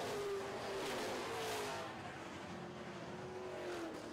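A super truck races hard down toward the bottom of a racetrack during a feature event, its engine a steady, loud roar with a gliding pitch as it throttles, and no talk over it.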